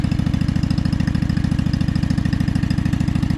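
A small lawn mower engine with a muffler runs steadily, its rapid even putter close and loud throughout with no voices.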